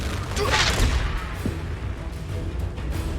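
Explosive fire spell blasts in Hogwarts Legacy, a burst of booming, crackling impacts flaring near and loud, then rumbling thuds and scattered mechanical clatter trailing off, with a voice speaking over the combat.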